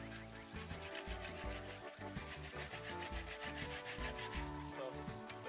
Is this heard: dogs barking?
no